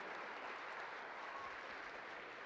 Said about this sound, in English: Could we please have applause for our visiting guest today